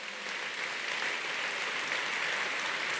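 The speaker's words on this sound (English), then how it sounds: "Let's give them a big round of applause." Audience applause at an engineering graduates' recognition ceremony, a steady dense clapping from a large indoor crowd that holds evenly for about three seconds without talk.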